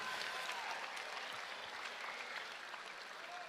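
Dense, steady applause from a crowd at a live outdoor legality event fills the whole stretch, a continuous wash of clapping at moderate distance with no voices standing out.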